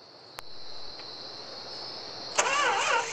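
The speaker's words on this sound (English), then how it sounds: "Get a cold start." In a Roblox game, a Ram pickup's V8 engine cold-starts with a click and starter whir, then a sudden rumbling catch into a lively idle. An insect-like whine hangs in the background.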